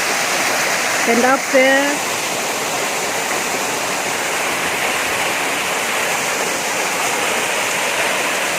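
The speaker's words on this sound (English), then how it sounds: "The water continues to fall, guys." Waterfall on a hiking trail, a constant broadband rush of falling water that stays loud and even throughout, with a man's brief spoken remark near the start over the roar.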